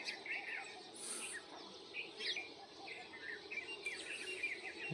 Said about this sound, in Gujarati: આ બાજુ કોયલ ને પંખી બોલે જો